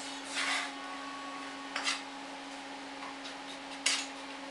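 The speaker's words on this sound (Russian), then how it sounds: "мою, мою посуду сюда кладу, сюда" Dishes and cutlery being washed in a kitchen, with a few brief clinks and rubbing scrapes over a steady running-water hiss and a faint electrical hum.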